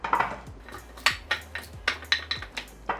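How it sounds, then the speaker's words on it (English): Jicama fries tossed with oil and spices in a bowl, a run of repeated clinks and scrapes of a utensil against the dish about every half second, close and fairly crisp, with no voices. "we're going to mix this all together to make sure we get the oil coated nicely over all of the fries"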